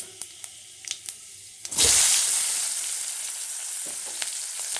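Spices tempered in hot oil, then onion dropped in for Bengali lotte fish and taro stir-fry: a few light clicks, then a sudden loud burst of sizzling that settles into a steady, close frying hiss.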